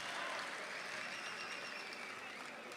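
Audience applause fills a mushaira hall, a dense, steady wash of many hands clapping at once, holding even and fairly distant for its full length with no break.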